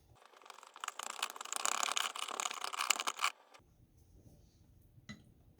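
Flour and water being stirred together in a jar to feed a sourdough starter, a close scraping, ticking mix for about three seconds, then a quieter pause with a faint knock near the end.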